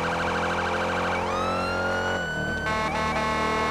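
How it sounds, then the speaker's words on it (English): A sheriff vehicle's siren in GTA 5 wails loud and close, then shifts into a rapid yelping pattern, with no voices present. "I know you hear the siren."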